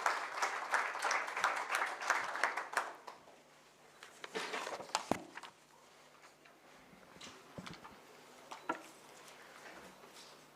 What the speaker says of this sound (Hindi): और इतनी कम तालियां नहीं, जोरदार तालियां हो जाए।